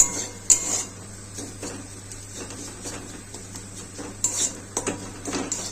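Fried pointed gourd and potato pieces tipped into a pan of turmeric, chilli and cumin spices for a fish-roe curry: sharp metallic clinks and scrapes of a spoon against the pan over a quiet background, in irregular bursts.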